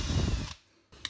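A cordless drill bores a hole in a puukko knife workpiece, a loud whirring grind for about half a second, then a brief pause before a short renewed burst of drilling.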